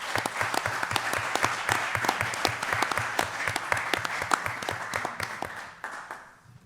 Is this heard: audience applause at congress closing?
yes